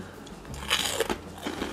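Baked bread cubes tossed in olive oil are bitten after being dipped in spinach dip, giving a few close, crisp crunches over less than two seconds with no talking.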